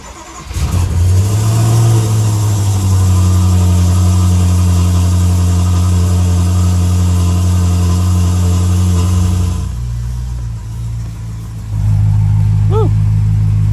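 A freshly finished BMW M5 build, idle since September, cranks and fires, then runs loud and close with a steady deep drone that dips briefly before settling back in.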